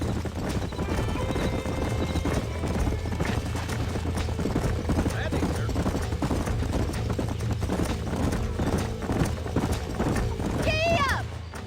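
Horse hooves clip-clop steadily at a trot in a Red Dead Redemption ranch setting, with a whinny near the end, over continuous background bustle and some voices.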